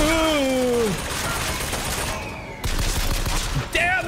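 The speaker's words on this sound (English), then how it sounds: "Damn, this pistol goes crazy, actually." A pistol fires rapid, loud, crackling shots in BioShock Infinite, mixed with gliding whistling tones and chaotic battle noise throughout.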